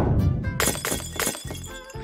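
Glasses shatter repeatedly in a video game, with a dense crash of breaking glass and tinkling shards bursting in loud waves over about two seconds, several impacts following one another closely.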